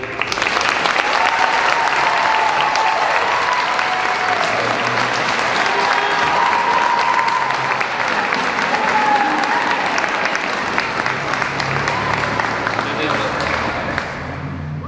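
Audience at a school band concert breaks into loud, sustained applause, a dense crowd of hands clapping close by for the whole stretch, tapering slightly at the end.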